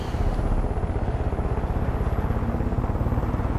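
Helicopter in the video game Far Cry 5 drones loudly and steadily, a continuous rotor and engine rumble with a faint rhythmic pulse that fills the whole stretch without talk.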